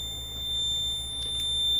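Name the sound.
fire alarm sounding during Notifier NFS2-3030 system test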